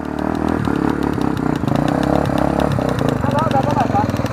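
A motocross-style motorcycle engine buzzes loud and steady on a muddy trail beside a marsh, its pitch wavering as the throttle shifts, with voices calling out over it.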